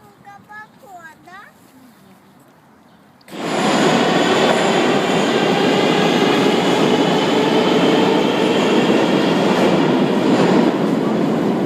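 A Moscow metro train rushes in at Kievskaya station, its loud roar cutting in suddenly after a few seconds of quiet talk, then a sustained rumble with wheel squeal and rattling.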